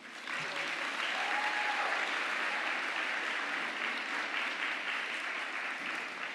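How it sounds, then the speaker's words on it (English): Graduates at a university health faculty graduation ceremony applaud their loved ones in a broad, even wave of clapping that fills a large hall and holds steady for several seconds. "And you give them a round of applause."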